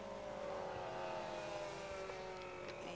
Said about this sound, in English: Get a cracking view from that pit wall as the cars flash past you at breakneck speed, often in one long line of MX-5s